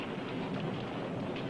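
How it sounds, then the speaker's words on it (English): Steady rain with a low thunder rumble underneath, a dense continuous wash of sound effect behind a dramatic poem reading, with no voice during this stretch. "it rained."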